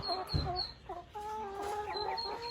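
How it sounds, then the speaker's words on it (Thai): Laying hens cluck and murmur in a low, drawn-out chorus, several birds close by making wavering, sustained calls with occasional sharper clucks. "เป็นแม่ไก่ที่พร้อมไข่จริงๆ"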